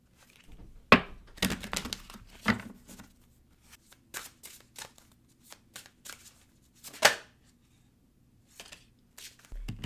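Wisdom of Tao oracle cards shuffled by hand in a series of sharp riffles, slaps and taps, irregular and close, with brief quiet gaps between bursts and no speech.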